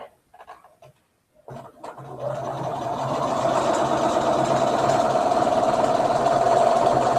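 A sewing machine stitching a straight seam on a cloth doll leg, starting after a few brief handling clicks and then running as a steady, close, continuous whir that builds and holds to the end, with no talk.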